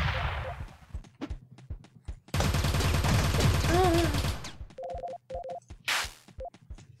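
Nail bomb blast in the top-down sci-fi shooter Teleglitch, a dense broadband burst lasting about two seconds amid scattered clicks, gunfire pops and electronic beeps from the game.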